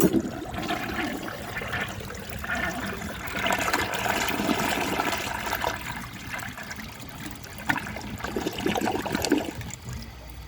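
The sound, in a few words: 1957 Kilgore Atlas forward trap toilet flushing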